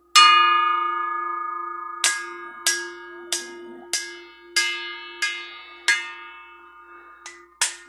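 A bell is struck by its clapper: one long ringing tone, then about nine bright metallic strikes at uneven intervals, each fading away over a sustained low hum; close and loud.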